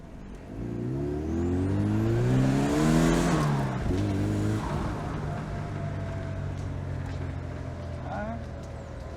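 A Merkur XR4Ti turbo car accelerates hard, its engine climbing through rising revs and a gear change before settling into a steady drone, with a voice speaking over the engine and wind noise.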